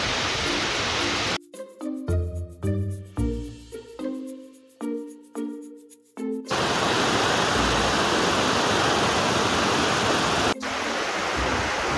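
Zime falls in the Bernese Alps roars loud and close with a dense, continuous rush of water. A stretch of distinct pitched tones breaks in early on before the full roar returns.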